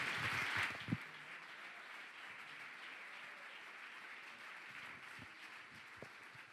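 A congregation at a men's church rally applauds to welcome their pastor, soft and distant clapping with a brief louder burst at the start, then a thinner sustained patter with a few sharp knocks.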